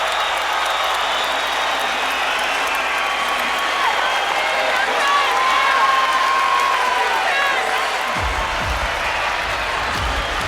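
An arena crowd at a boxing match between Terence Crawford and Raymundo Beltran keeps up a loud, continuous roar of cheering, with a commentator's voice running over it.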